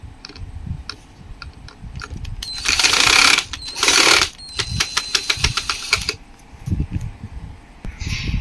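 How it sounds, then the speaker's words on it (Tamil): A screw is worked loose from the oscillation rod of an Usha table fan, giving a run of sharp ratcheting clicks and ticks, broken by two louder bursts of scraping noise near the middle. "இப்போ நம்ம இந்த ஸ்க்ரூவை கழட்டிக்கலாம்."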